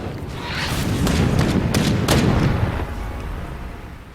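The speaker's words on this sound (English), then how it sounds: "Cannon fire!" Cannon fire in a video game, a dense, sustained rumble of booms and blasts that swells and slowly fades, loud and continuous with no talk.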